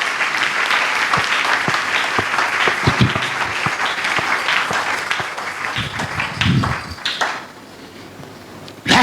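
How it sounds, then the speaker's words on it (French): A church congregation applauds at a Sunday worship service, a dense, steady wash of many hands clapping that carries on for several seconds before thinning out and fading near the end. "On acclame le Seigneur"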